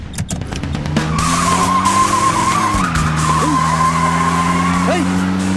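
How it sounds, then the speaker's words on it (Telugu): A car skids through a turn with a long, sustained tire squeal over engine drone, loud and close, with a shifting screech near the middle and voices faintly mixed in. "ఏంటి కారు వెనక్కి తిప్పావు"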